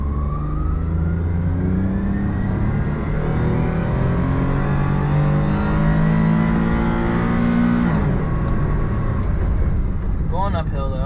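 A car being test driven accelerates hard uphill, its engine note rising steadily and loud for several seconds before easing off abruptly, followed by faint rattling.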